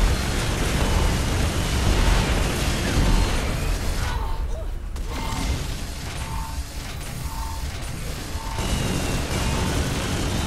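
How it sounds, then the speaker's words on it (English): In Saints Row 4, a tank crashes down from the sky amid loud, continuous rumbling, explosive roars and mechanical clanking that briefly thins midway before surging again, with voices faintly under the din. "Die tank, de dondert de tank uit de lucht."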